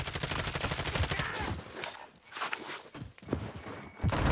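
Gunfire crackles in a Warzone match, with rapid bursts of shots and clattering impacts, fairly close, interrupted by a brief lull before more shooting.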